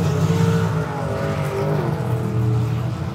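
A hot rod drag racing car's engine holds a steady, loud, buzzing high rev against the limiter, a dense harmonic drone with slight wavering pitch, close and continuous with no talk.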